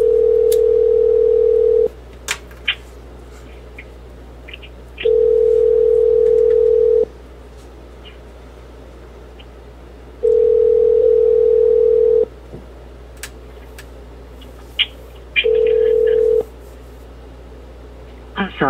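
An outgoing telephone call ringing on a line before it reaches voicemail: four long, steady ring tones separated by pauses of several seconds, with faint background noises in between.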